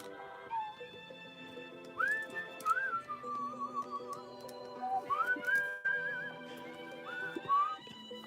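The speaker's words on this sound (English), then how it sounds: "that was bad whistling" A person whistles a wavering, warbling tune with slides and trills, in two phrases with a short pause between, fairly close and moderately loud.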